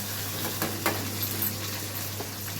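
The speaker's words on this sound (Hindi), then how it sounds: "तो जी ये कर देती हूँ फ्राई।" Tempering for dal sizzles and crackles steadily in a hot pan, with occasional louder pops and stirring scrapes over a constant low hum.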